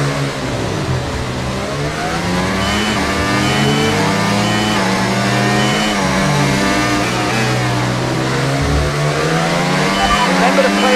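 An F1 car in the F1 24 video game accelerates hard out of a pit stop, its engine loud and close, rising in pitch through the gears with brief dips at each shift, continuous for about eleven seconds.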